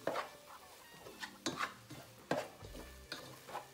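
Zucchini, corn and onion get stirred in a pan, a spoon scraping and clacking in irregular close strokes over a faint background sizzle.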